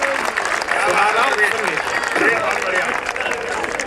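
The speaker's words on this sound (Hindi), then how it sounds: "तालियां सब मिलकर एक बार बजा दें।" An audience at a Hindi humorous poetry gathering (hasya kavi sammelan) claps together in dense, steady applause that fills the whole stretch, with some voices faintly mixed in.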